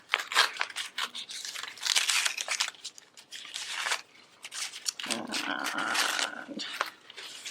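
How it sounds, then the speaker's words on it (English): Paper being torn off by hand in bursts of ripping and crinkling, close and fairly loud, with a steadier tearing stretch near the end. "So we're going to tear all the paper off."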